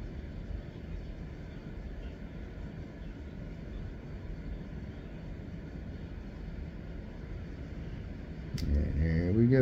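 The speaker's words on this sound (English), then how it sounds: "just watching this helicopter LifeFlight take off" A LifeFlight medical helicopter lifts off from St. Margaret's Hospital in Fox Chapel, heard as a steady distant engine drone that swells louder near the end, with a voice speaking over it.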